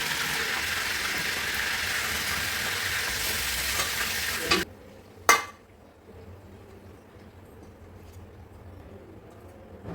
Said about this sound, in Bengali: হালকা করে ভেজে নেব এতে করে চিকেনগুলো সফট থাকবে